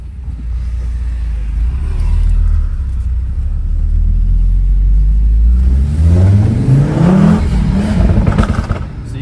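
An Audi TT RS engine idles with a deep rumble, then revs up loudly and climbs in pitch, with pops and bangs crackling from the exhaust as the revs fall.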